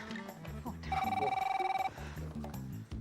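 A phone rings with a bright, pulsing electronic trill for about a second, while people talk around it before and after.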